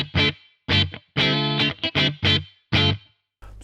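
An electric guitar plays through a Marshall Mode Four solid-state amp with distortion and reverb switched off, giving short crunchy bursts of chords separated by brief silences, close and loud.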